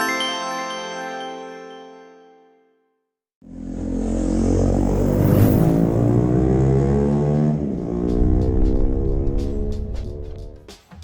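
A Ducati Scrambler Desert Sled motorcycle engine idles, stops briefly, then restarts and runs with a loud, rumbling throb that swells as it revs, close by.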